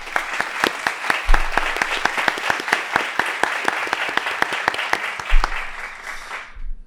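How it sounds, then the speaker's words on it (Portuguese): Enthusiastic applause from a crowd welcoming a speaker at a motivational talk, steady rapid clapping for several seconds before it fades out near the end. "me ajudem a receber com uma forte salva de palmas todos vocês, Paulo Vieira."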